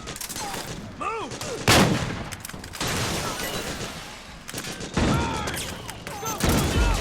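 Video game battle in Metal Gear Solid 4: bursts of automatic gunfire and loud sharp shots, with a few heavier booms mixed in and shouted voices in between.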